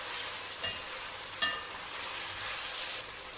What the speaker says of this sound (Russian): Мясо пусть жарится.